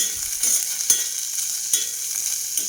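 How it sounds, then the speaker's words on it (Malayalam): Onion sautéing in a pan alongside shallots and coconut for a cauliflower curry, a close, steady hiss of frying with a few soft stirring knocks, no talking. "സവാള ഒന്ന് വഴറ്റി കൊടുക്കാം."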